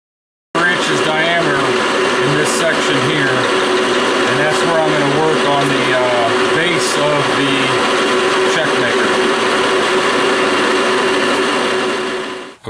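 A lathe takes a full-length cut on an old race-engine valve spring, turning it down to 1 1/4 inch: a steady, loud mechanical whine and hum with a continuous tonal drone that runs unbroken from start to finish.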